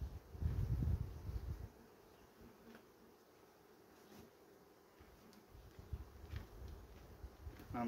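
Honey bees buzz steadily at an open hive while it is being inspected, with a dense, close drone and occasional low thumps and handling noises from the frames.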